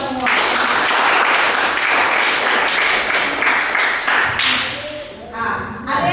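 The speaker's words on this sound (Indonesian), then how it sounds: "Tepuk tangan semua." A classroom of students claps together after a biology lesson answer, loud and close, a dense burst of applause that thins out toward the end, with a few scattered claps and faint voices.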